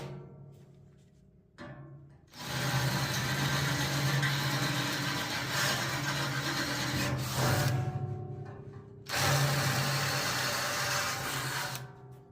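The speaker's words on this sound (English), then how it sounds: "we can drill the actual hole for our rivet nut" A power drill grinds steadily through metal in loud bursts, drilling a hole for a rivet nut on a trailer BBQ smoker build, separated by brief pauses, with no talking.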